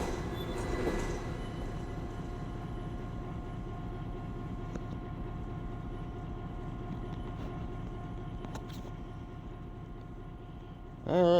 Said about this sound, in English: well that was a fast train